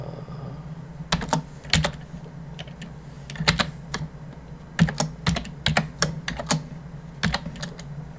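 Keystrokes from C code being typed on a computer keyboard for a Raspberry Pi, close and crisp, in quick clustered bursts separated by short pauses.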